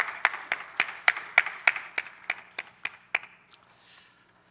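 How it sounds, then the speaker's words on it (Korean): Clapping in a church service rings out as a dozen or so crisp, evenly spaced claps in a steady rhythm, close and fairly loud, before stopping and leaving a brief soft rustle. "영광의 박수 올려드리겠습니다"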